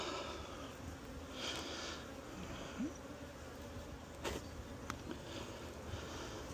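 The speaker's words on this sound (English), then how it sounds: "it's got a lot of bees coming up through here" Honey bees buzz densely at a strong hive used as a queen bank in a cow pasture apiary, a continuous close droning swarm with scattered louder passes of individual bees near the microphone.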